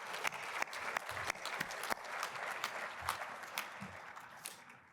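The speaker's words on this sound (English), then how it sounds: "So please, another round of applause." A crowd at an MLK Day celebration applauds steadily for several seconds, a dense wash of many hands clapping at moderate volume with no voices on top.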